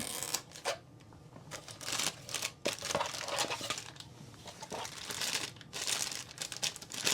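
Packing tape peeled and torn from the box of a Tomica Limited Vintage carport diorama during unboxing, a steady run of close, crackly ripping and crinkling with short pauses and no talk.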